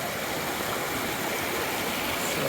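A creek rushes steadily at a double river crossing on a hike from Bishop to Mammoth, a broad, close, unbroken roar of flowing water with no voices.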